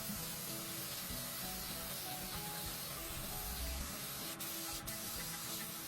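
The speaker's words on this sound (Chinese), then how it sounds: "打磨完毕后，师傅们开始给车身喷底漆。" Primer is spray-painted onto a truck body in a makeshift setup at a Pakistani repair shop, a loud, continuous close hiss with only brief breaks near the end.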